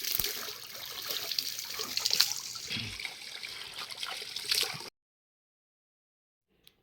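Natural mountain spring water flowing and trickling steadily in the hills, close and fairly soft, with a few splashier moments before it cuts off abruptly into silence.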